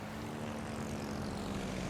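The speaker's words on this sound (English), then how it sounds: "we're going to start out the game taking out our torpedo bombers" Torpedo bomber aircraft launch from a carrier in World of Warships: Legends, giving a steady droning propeller engine hum that holds at an even, moderate level throughout with no talk.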